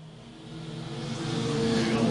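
Race cars roar away together at the green flag start of a speedway feature race, engine noise swelling steadily louder over a couple of seconds as the pack accelerates.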